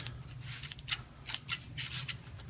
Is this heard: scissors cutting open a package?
yes